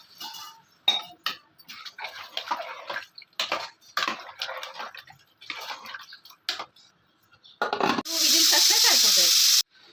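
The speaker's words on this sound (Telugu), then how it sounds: "ఇప్పుడు వచ్చేసి వాటర్ అయితే వేసుకోవాలి." Scattered clinks and light clattering come first as potato tomato curry with coriander is prepared. Then water is poured in, making a steady, loud, close gush that lasts nearly two seconds at the end.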